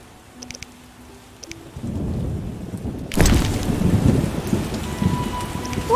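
Heavy rain pours and thunder rumbles in The Witcher: Enhanced Edition. The downpour swells after a quieter opening, and a loud thunderclap breaks in midway before the rain keeps drumming steadily.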